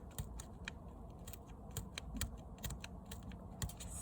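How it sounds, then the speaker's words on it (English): A pin pokes holes through paper along an outline in a Montessori toddler activity, producing quick, sharp little clicks in an irregular series, close and faint with no talking. "to poke as close together onto the paper as possible"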